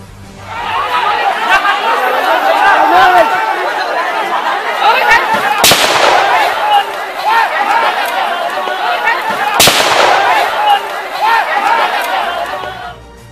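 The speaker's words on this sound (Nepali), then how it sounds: "तर अचानक भारतीय गोली गौतमकै शरीरमा बज्रन्छ" Two sharp, loud gunshots ring out at the Nepal–India border, a few seconds apart, cutting through the constant excited chatter of a crowd nearby.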